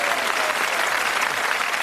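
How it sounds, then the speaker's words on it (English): Dense, steady applause from a TV game show studio audience fills the whole moment, loud and close, with a faint crowd murmur underneath. "Give him a nice round of applause."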